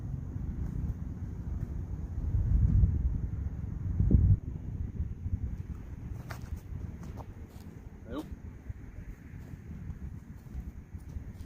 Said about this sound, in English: Oh, the wind. There's the wind.